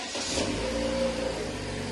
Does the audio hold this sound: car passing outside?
yes